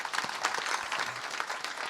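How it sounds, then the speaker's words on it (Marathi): A crowd claps at a kirtan, a short burst of dense, even applause, moderately faint and fairly distant, with no talk over it. "टाळ्या वाजवा."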